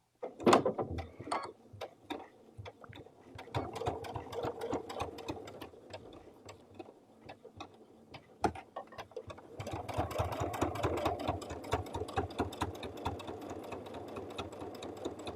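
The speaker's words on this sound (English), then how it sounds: "I'm going to do a straight stitch on this one, and I'm going to move my needle over just a little bit." A sewing machine straight-stitches fabric binding fed through an adjustable bias binder foot, running in rapid rhythmic bursts with short stops, close but fairly quiet, with faster stretches in the second half.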